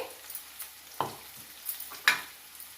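Green chili paste being mixed into potatoes, a few distinct spoon strokes scraping and squishing through the mash in an irregular rhythm, close and fairly quiet, with no speech.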